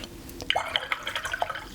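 A paintbrush is rinsed in a water jar during watercolor painting, giving light drips and splashes with small glassy clinks, close and fairly soft.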